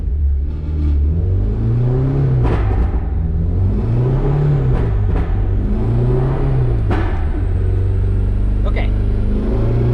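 Car engine with a Kpro crackle tune heard from inside while driving, a steady loud rumble that rises and falls in repeated rev swells, with occasional sharp pops and someone talking over it.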